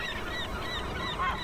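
Herring gulls call shrilly and repeatedly as they defend a chick, strained wailing cries overlapping above a steady outdoor rush, fairly close and moderately loud.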